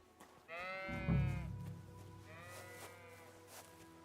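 Sheep bleating in the video game Kingdom Come: Deliverance II: a loud, wavering bleat followed by a second, fainter bleat, set against a soft low ambient hum.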